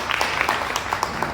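Scattered applause greets a co-MC introduced at a Black History youth and culture event, with irregular claps from a modest crowd at moderate level.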